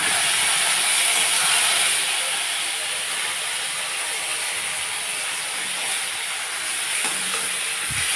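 A spice mixture hitting hot oil while cooking vegetarian taro-leaf greens, bursting into a loud bright hiss that eases after a couple of seconds into a steady sizzle, with no talk.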